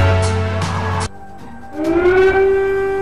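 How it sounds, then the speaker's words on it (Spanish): Air raid sirens sounding in Kyiv in news footage: after a second of other rough noise, a loud civil defense siren wails in with a rising, sustained tone. "Cuando las sirenas empezaron a sonar en Kiev el 24 de febrero"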